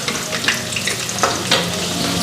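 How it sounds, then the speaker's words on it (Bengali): Potatoes fry loudly in a pan with a dense, steady sizzle, punctuated by a few scraping stirs as crushed ginger and garlic go in, close and with no talking. "গ্যাসটা একটু কমাই দিই আর আদা রসুন ছেঁচাটা দিয়ে দিই"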